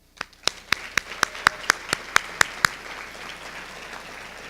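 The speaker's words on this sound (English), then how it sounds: "Students, I'd like you to recognize your parents right now, to give them a round of applause" Students at a senior awards banquet applaud their parents. About ten sharp, evenly spaced claps ring out close and loud, then give way to a softer wash of scattered clapping from the room.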